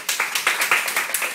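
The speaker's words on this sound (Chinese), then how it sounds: "大家起立鼓掌，" An audience on its feet applauds with quick, rhythmic, close claps that sound as a brisk, evenly spaced patter over a short burst.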